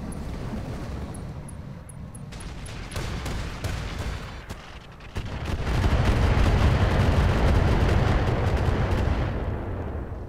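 Mortar fire from an R-59 in the game Roguetech: scattered loud booms at first, then a heavy, sustained, rumbling roar of blasts that lasts to the end.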